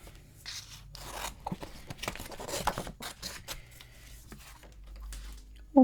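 Scissors snipping through a piece of material in a series of close, crisp cuts and rustles, with handling noise between the snips.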